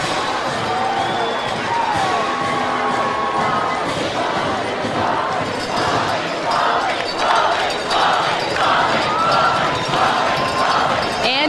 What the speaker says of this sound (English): You hear them cheering